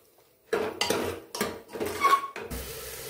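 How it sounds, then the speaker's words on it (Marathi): Moong and masoor dal being mixed in a pot: a spoon scrapes and clanks against the metal in several quick, close strokes after a brief quiet start. "आता याला छान मिक्स करून घेऊया."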